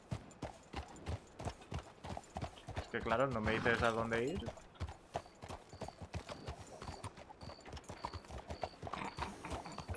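Horse hooves clip-clop steadily as a mare is ridden in the Red Dead Redemption game, a brisk close rhythm throughout, with a brief whinny partway through and someone talking over the hoofbeats.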